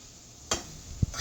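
A short burst of sizzling from a hot pan of spinach and tempeh, followed by a soft scrape of stirring and a low knock.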